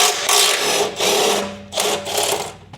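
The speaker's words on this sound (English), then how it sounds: "we're gonna use an 18 millimeter on a 90-degree impact gun" A 90-degree impact gun with an 18 mm socket hammers at a vehicle frame bolt in four loud, close buzzing bursts separated by short pauses.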